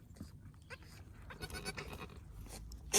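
A horned goat on a small farm bleats several times in quick, wavering calls, close and fairly loud, with rustling and shuffling in between and no talk.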